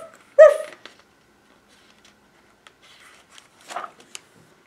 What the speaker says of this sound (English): If you see mommy dog, don't forget to bark.